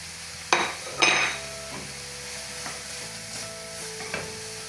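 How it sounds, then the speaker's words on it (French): Zucchini hisses in a hot frying pan while being stirred, with a few knocks and scrapes of a utensil over a low, continuous sizzle. "Vu que maintenant la poêle elle est chaude, on va pouvoir ajouter le reste de notre courgette."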